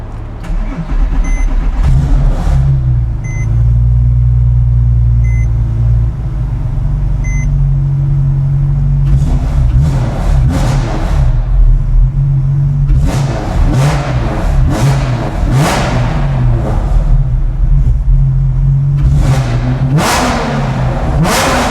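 A 987 Porsche Cayman engine idling, then hit with a series of quick throttle blips, each a sharp rev that climbs and falls back to a steady idle, loud and close.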